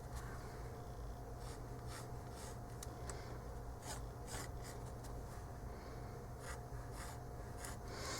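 Pencil sketching on paper in a beginner watercolor journal, a faint steady scratching and rubbing with soft repeated strokes over low background hum.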